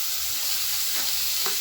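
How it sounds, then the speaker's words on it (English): Chopped onion frying in a pan for homemade pav bhaji, a soft continuous sizzle with a faint scrape near the end, no talking. "Now we'll add other chopped items. We'll add onion."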